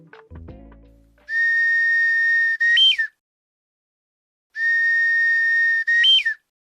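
Bamboo uguisu bush warbler whistle toy, a Japanese folk toy, blown twice in imitation of the hohokekyo call: each a long steady tone ending in a quick rising-falling flourish, clear and close, separated by silence.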